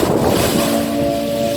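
Seaside surf washing in a continuous steady roar, loud and close, with wind rushing across the microphone and no voices.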